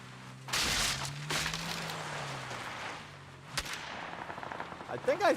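Gunfire in a PUBG solo match on PC: a few sharp shots and bursts amid game sound, with a muffled voice faintly underneath.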